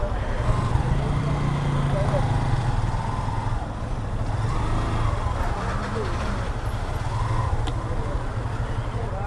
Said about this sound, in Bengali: আর এখন এই যে যাওয়ার সময় একই অবস্থা, প্রায় 2 কিলোমিটার জ্যাম